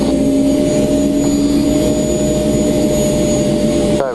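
A Gazelle helicopter's turbine engine holds a steady, loud, continuous whine and roar at 22,000 RPM, with sustained tonal hum and a rising sweep at the very end.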